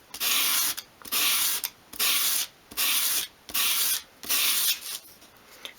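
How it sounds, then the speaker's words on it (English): Wooden roof piece for a 1/12th scale doll's house sanded along its edge on sandpaper at an angle, six steady rhythmic scraping strokes, each about half a second, close and alone. "just hold the piece at a 45-degree angle and sweep it along the sandpaper towards you"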